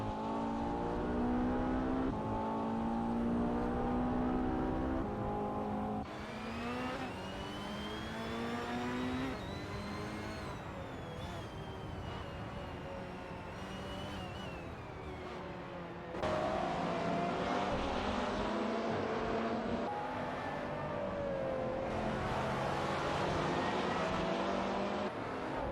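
Hypercars racing in a video game, a sustained layered engine roar with pitch climbing through shifts and cars sweeping past, loud and continuous throughout with abrupt level changes.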